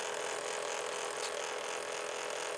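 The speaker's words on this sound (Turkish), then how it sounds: "yazdır dediğimizde Ve işte yazımız geliyor" A portable mini thermal printer feeding out a roll of paper gives off a steady, even mechanical whir with a faint ratcheting texture, held close and continuous the whole way through.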